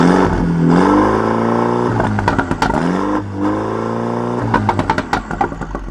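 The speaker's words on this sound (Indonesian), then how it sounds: "Yang JCW ini dia knalpotnya pakai John Cooper Works Pro Kit." A MINI John Cooper Works fitted with a JCW Pro Kit exhaust revs loudly up and down twice, each time letting off into a rapid series of sharp pops and crackles, close and clear.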